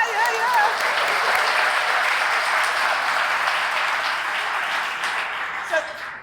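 Steady applause from an induction ceremony audience at a university athletics Hall of Fame event, sustained and even for several seconds before tapering slightly near the end.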